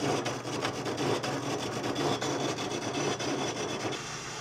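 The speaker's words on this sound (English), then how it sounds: "Taking pretty light cuts and just letting the lathe do its thing." A metal lathe takes light cuts through rust and scale on scrap steel, producing a steady raspy scraping with faint motor hum, continuous and close, with no voices.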